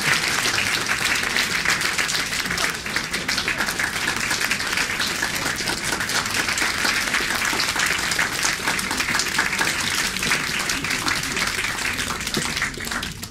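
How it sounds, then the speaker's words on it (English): Sustained applause from a large audience, dense steady clapping filling the whole stretch at an even loud level without a break. "the last thing I want to do is to ask you to give a loud, long, ringing applause to Phyllis Lamphere"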